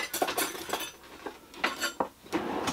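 A metal spoon clinks and scrapes against a container while mixing glitter into soft plastic bait, with irregular bright taps and clatters alone and close.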